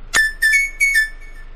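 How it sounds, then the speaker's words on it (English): Wooden flute notes in a Dora the Explorer click-and-create PC game: three short, bright whistled tones, each starting with a sharp breathy attack and then holding a steady pitch, spaced evenly and played alone. "It's the sound of a wooden flute."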